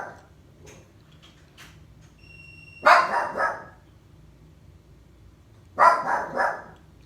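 Indoors, a Doberman Pinscher lets out two separate clusters of loud, close barks several seconds apart, each cluster holding about three quick barks, with faint clicks and household quiet in between.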